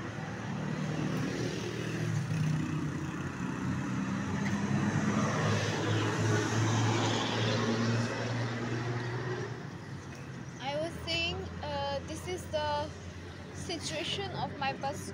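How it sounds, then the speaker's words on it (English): Steady roadside traffic rumble at a bus stop with engines passing nearby, a constant noisy wash throughout, and a person talking over it toward the end. "because I am on the side of the road. That's why you are having a lot of noises."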